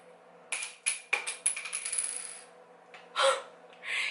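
Plastic cap of a black eyeliner pencil popping off and dropping onto a hard surface, a quick run of bright clattering bounces that settle, followed by a couple of soft rustles, close and clear with no talking.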